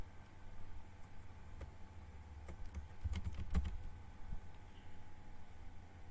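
Typing on a computer keyboard to fill in an online form: soft, quick key taps in a short irregular burst around the middle, quiet against low background hiss.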